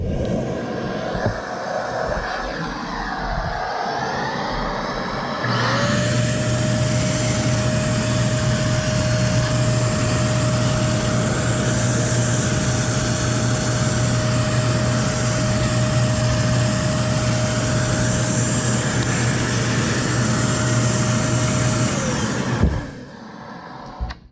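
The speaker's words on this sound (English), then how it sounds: "So you have to listen to the vacuum cleaner" A vacuum cleaner starts up and runs steadily, cleaning dust from a computer, with a loud, constant whine and roar for most of the clip, then switches off near the end.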